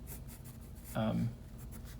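A pencil sketches a figure outline on paper, its soft scratchy strokes running steadily and close, briefly covered by a speaking voice partway through.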